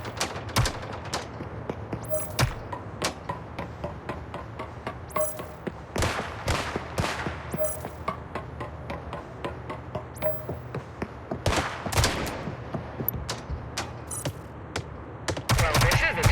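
Rapid bursts of gunfire and sharp shots from the video game Gangstar Mirage City crackle over continuous game music and effects, with voices talking throughout the busy, dense mix.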